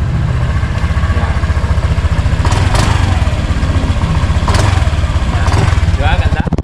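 A 2024 Honda Click 125 scooter engine idles close by with a steady low throbbing putter, loud and even throughout, with people talking faintly over it.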